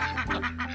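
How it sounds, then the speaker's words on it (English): Ducks quack in a short burst of nasal calls, close by and fairly loud, with no talking. "And ducks."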